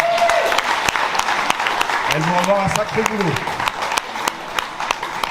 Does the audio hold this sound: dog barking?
no